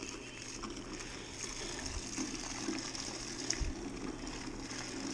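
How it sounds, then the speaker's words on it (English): Blood orange runs through a valve into a home-brew beer fermenter, making a steady faint gurgle and trickle of liquid with a couple of soft bumps and no talking. "You can hear it gurgling here, listen."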